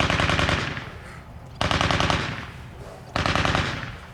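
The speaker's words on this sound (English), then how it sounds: "going to wait till they stop shooting." Musket gunfire volleys during a firing demonstration at Fort George, Niagara Falls, Ontario: three loud, sharp cracking bursts of massed shots about a second and a half apart, each trailing into a short rumbling decay.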